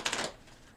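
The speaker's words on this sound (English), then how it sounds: "I'm going to do 3 more shuffles." Tarot cards riffled in a brief burst of crisp papery flutter at close range, fading quickly into quiet room tone.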